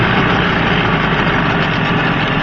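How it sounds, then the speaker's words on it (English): A 1986 Tohatsu 18-horsepower outboard idles close by, a loud, even, rumbling drone with a steady knocking pulse throughout. "It's an 18-horse 1986 outboard."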